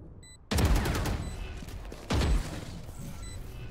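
Gunfire in Valorant: two sharp, loud bursts of shots, each opening with a hard crack and trailing into rapid rattling fire, with quieter mechanical clicks between and after them.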